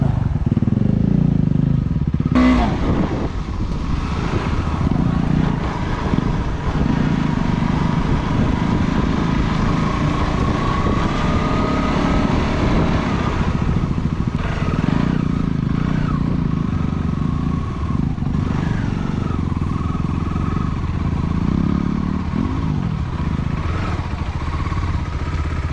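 A KTM motorcycle engine drones continuously at close range while riding an off-road trail, loud and sustained with slight throttle changes and occasional knocks from the rough ground.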